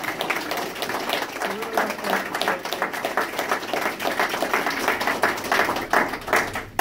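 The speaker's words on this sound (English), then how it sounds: "my assistant superintendent, Jay Reeves, please round of applause." A crowd claps in a dense, uneven patter that continues throughout, loud and close, with voices mixed in, at an opening event for a community corrections center's new space.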